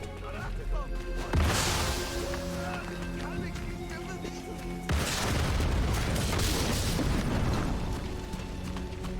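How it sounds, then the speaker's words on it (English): Grenade explosions in the Sniper Elite 5 video game: two heavy booms, one sharp blast followed later by a louder rumbling detonation, set against game ambience and music. "throw some grenades over here"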